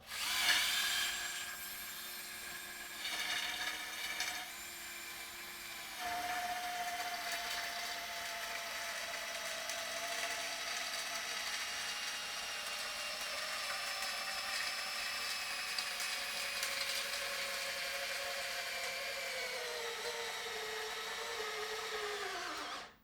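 Bosch 12-volt impact driver whirring and hammering in a long continuous run, starting with short bursts, then a steady high whine that gradually drops in pitch as it works, close and loud.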